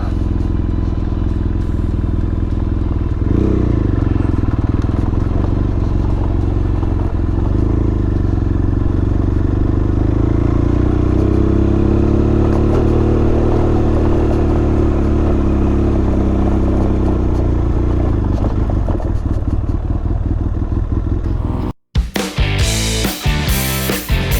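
Motorcycle riding along a road, its engine droning steadily and loudly up close with gentle rises and dips in pitch, wind and clatter mixed in, then a sudden cut and rougher bumps near the end; no talking.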